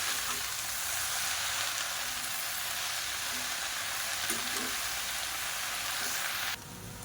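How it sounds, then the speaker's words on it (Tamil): Mint and coriander leaves sautéing in a pan give off a steady, even sizzle with faint stirring scrapes, close and continuous, then dropping slightly quieter near the end. "இப்போ இது கூடவே ஒரு கைப்பிடி அளவுக்கு மல்லி இலையும் சேர்த்து நல்லா வதக்கிக்கலாம்."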